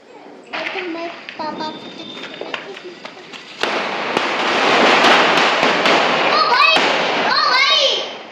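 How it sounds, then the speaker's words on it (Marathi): Diwali firecrackers burst in a loud crackling barrage that swells into a sustained roar, with excited children's voices and shouts mixed throughout. "सगळं वाजलं फटाके"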